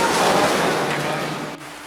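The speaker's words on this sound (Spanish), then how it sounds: "estaba trabajando y se largó a llover" Rain pours down in a dense, steady hiss that fades slightly toward the end, loud and close, with no one talking.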